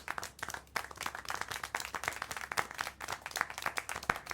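A small group claps in quick, uneven bursts, moderately close, with no other sound standing out.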